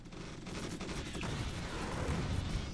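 Sustained game gunfire from troopers battling bugs in an urban HQ fight in Starship Troopers: Terran Command, a steady barrage of overlapping shots and explosions at moderate loudness.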